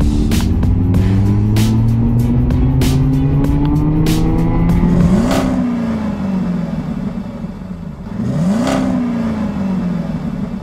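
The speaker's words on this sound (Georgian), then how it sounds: "ავტომობილი Bentley Continental" A Bentley Continental at a motor race roars as it accelerates hard through rising gear changes, with the engine note climbing and dropping at each shift, loud and close.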